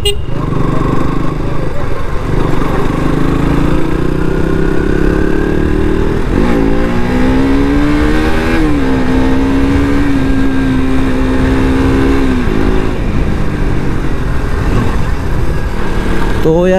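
A KTM RC 200 motorcycle fitted with a double disc brake, heard on a test ride as a steady, loud engine drone that rises and shifts pitch through gear changes, with wind noise and no speech.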